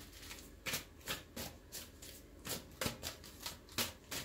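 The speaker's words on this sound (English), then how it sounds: "Let me pull a couple of your angel cards here." Angel cards are shuffled close up in a series of soft, rapid riffling bursts with brief pauses between them, quiet and without talk.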